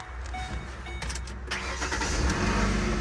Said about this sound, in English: Let's go ahead and crank it up.